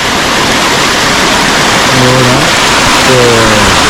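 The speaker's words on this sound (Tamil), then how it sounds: "இந்த தண்ணி போகிற சவுண்ட் இங்கே கேட்டுட்டே இருக்கு" Loud, constant rushing water from a stream beside a resort in the Kolli Hills fills the scene, with a voice speaking briefly underneath.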